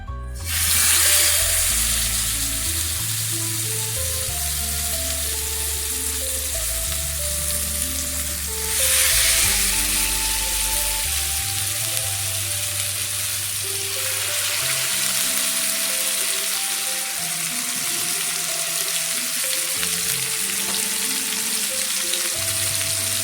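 Chicken pieces fry on a hot tawa with ghee, giving a loud, continuous close sizzle that flares as more pieces go down and then settles into steady crackling.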